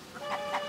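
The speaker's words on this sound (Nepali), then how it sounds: "तर कुखुराहरू डराउँछन् र सबैतिर छरिन्छन्।" Chickens cluck in a brief story sound effect, two quick soft clucks close together, fairly faint, with no voices.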